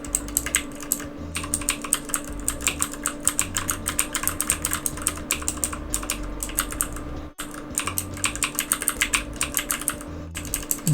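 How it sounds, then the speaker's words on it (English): A computer keyboard is mashed rapidly and continuously during a Shockwave browser game, giving dense, close clattering keystrokes with only brief pauses. "Get ready for some great keyboard mashing noises."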